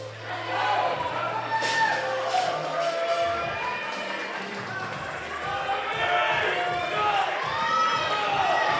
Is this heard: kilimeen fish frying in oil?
no